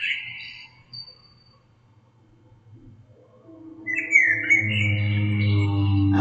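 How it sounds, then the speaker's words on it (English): A bird chirps in short high calls early on, then a longer run of tweeting over a loud low hum that swells toward the end. "You heard the bird?"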